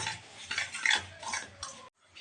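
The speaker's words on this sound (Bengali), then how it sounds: "নিয়ে নিয়েছি 2 কাপ সুজি, 1 কাপ দই এর মধ্যে দিয়ে দিচ্ছি। পর ভালো করে ফাটিয়ে নিচ্ছি।" Batter of semolina and yogurt being stirred and beaten in a bowl, a close continuous scraping swish that stops abruptly near the end.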